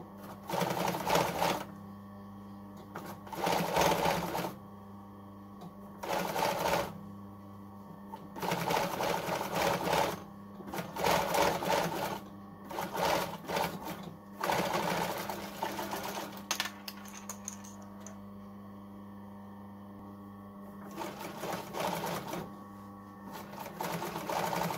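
A sewing machine top-stitches hoodie hood panels and lining in repeated close bursts of rapid whirring stitching, each run lasting a few seconds and separated by short quiet pauses.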